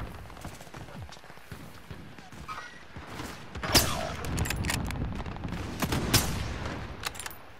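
Suppressed SPR 208 rifle fire in Call of Duty Modern Warfare, several sharp muffled shots at irregular intervals over a busy background of game noise, two of them especially loud and close.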